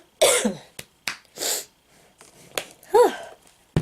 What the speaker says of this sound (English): Wish I'd get rid of this cough for good.